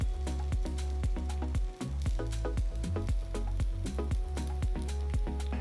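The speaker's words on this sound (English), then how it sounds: "Gently place the cheesy aloo tikkis onto the pan." Cheesy aloo tikkis, potato and cheese cutlets, shallow frying in oil in a pan over a medium flame, giving a steady close sizzle with a dense crackle of spitting pops throughout and no voices.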